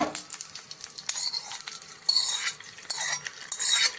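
Hot tempering (phodni) sizzles as it goes into khichdi, with faint crackling, a spoon scraping and light clinks of utensils in a quiet kitchen.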